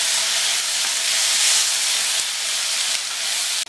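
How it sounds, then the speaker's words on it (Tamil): Onions and tomatoes sauté in a pan for vendakkai sambar with a loud, steady hiss of sizzling that runs unbroken, close up, with no voices. "இந்த வெங்காயத்தோடு சேர்ந்து தக்காளியும் வதங்கட்டும்."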